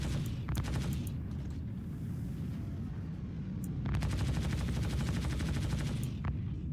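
Paladin ship guns firing in Star Citizen, heard as two bursts of rapid, evenly spaced gunfire over a steady low engine rumble, the second burst longer and louder, with no talking.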